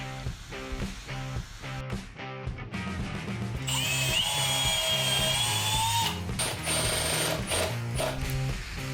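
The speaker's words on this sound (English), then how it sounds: "countersink and drive in some screws" A power drill drives screws into wooden form boards for a concrete fire pit, in short bursts of rattling spin, then a longer, steady high whine as a screw goes in, close and loud.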